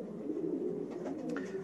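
Racing pigeons coo at their loft as they come home, a soft, close, continuous rolling murmur.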